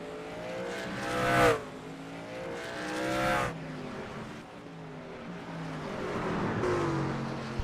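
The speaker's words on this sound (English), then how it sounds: "You see all the trucks go through the S's there." Racing trucks in an iRacing truck series race at Sonoma sweep through the esses, engines revving and rising in pitch as they pass in loud bursts one after another, with a steady motor drone between them.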